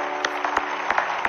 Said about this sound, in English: Somebody clap your hands to the Lord one more time.